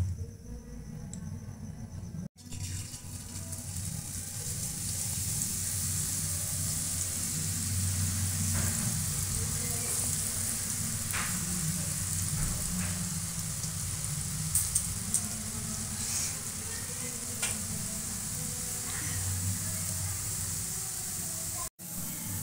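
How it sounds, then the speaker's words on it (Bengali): Potato sticks for crisp potato bhujia deep-fry in hot oil, a constant dense bubbling hiss running unbroken and fairly close, with occasional faint crackles. "এখন এই কাঠি ভাজা মেশিনটা ঘুরিয়ে আমি"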